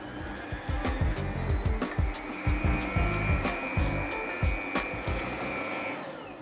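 An electric hand mixer whirs steadily while beating brownie batter, its motor droning with rhythmic pulses as the beaters churn, running alone at close range with no talk.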